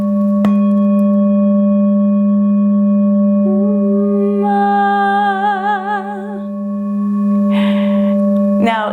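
A Tibetan singing bowl rings with a steady sustained hum that carries through the whole stretch, joined midway by brighter wavering overtones as it is sounded again, with a final strike near the end.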